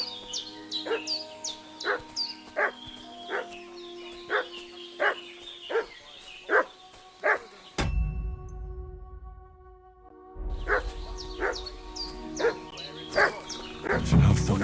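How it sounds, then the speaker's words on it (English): A dog barks repeatedly in Kingdom Come: Deliverance II, sharp evenly spaced yaps close by over a steady game backdrop, breaking off briefly before resuming with scattered barks and rustling. "What's that dog making such a fuss about?"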